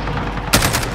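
Rapid gunfire from a SCAR rifle in Modern Warfare, a sudden loud burst of dense shots that starts partway through and keeps going in a fast stream.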